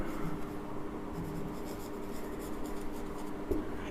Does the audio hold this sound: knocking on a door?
no